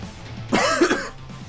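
A single rough cough, close and fairly loud, with a throat-clearing quality, heard alone against a quiet background.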